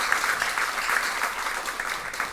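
A school audience claps steadily at a Haitian high school competition match, a dense and even wash of hands with no breaks, moderately loud.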